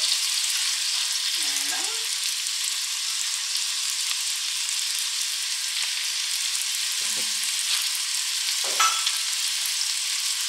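Shallots frying in a pan make a steady, bright sizzle that carries through the whole clip, with a couple of brief utensil knocks and a short spoken word over it.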